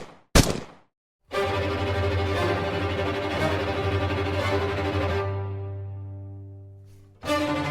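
Two sharp gunshots from an assassination attack in Sarajevo, a loud crack near the start followed by a second blast with a long ringing tail that decays over several seconds.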